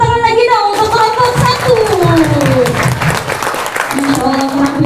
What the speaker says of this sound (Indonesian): Tepuk tangan lagi dong untuk kelompok